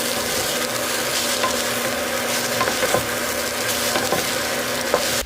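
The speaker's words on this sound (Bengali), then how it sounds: "তো এবার শাকের সাথে ভালোভাবে মিক্স করে নেব।" Greens and fried egg being stirred together in a frying pan give a continuous close sizzle, with the scrape of the utensil repeating in an irregular rhythm throughout.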